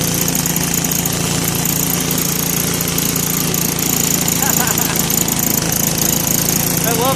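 A 1967 Case 155 garden tractor engine runs steadily and loud up close, a continuous droning rumble with a faint throttle-cable issue affecting idle, holding an unbroken mechanical hum throughout with no voices.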